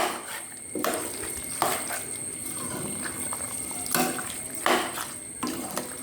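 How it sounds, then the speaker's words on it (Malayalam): Hot water goes into beef in a cooking pot: a faint liquid pour and splash, punctuated every second or so by metallic clinks of a spoon or ladle against the pot. "അത് ശകലം ചൂടുവെള്ളം കൂടെ നമുക്ക് ചേർത്ത് കൊടുക്കാം"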